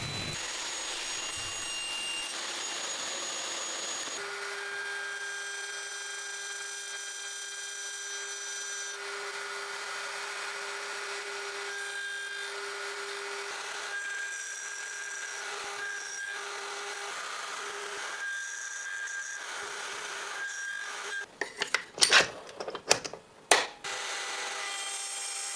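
A plunge router cuts dovetails in walnut, giving a steady, loud continuous whine with a sustained high tone for most of the stretch, then rougher, bursting cuts near the end.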